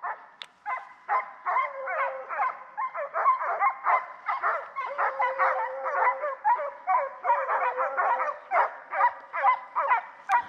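Hunting hounds bay and yip in rapid, overlapping bursts while running a deer track on public land, a continuous excited chorus of barks at moderate distance that keeps going without a break.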